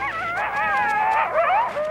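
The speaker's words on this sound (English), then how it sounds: "Coyotes howl to talk to each other, and every howl means something special." Coyote pack howling together in the wild, several overlapping rising and falling wavering howls, loud and close, sustained throughout with no talk.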